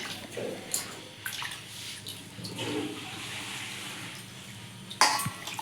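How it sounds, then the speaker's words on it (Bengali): Running water washes cut pabda fish in a home kitchen, a steady splashing rush with a few sharper spills and clatters, fairly close and without talk. "এবার ধুয়ে নেবে ভালো করে, পরিষ্কার করে নিতে হবে"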